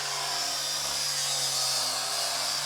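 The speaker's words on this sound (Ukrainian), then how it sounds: "Чоловік вже обрізав і шліфує брусочки, які нам потрібні для нашого, нашої альтанки." A power tool sands wooden bars cut for building a garden gazebo, a steady loud whirring grind that runs without a break, heard close with no talking.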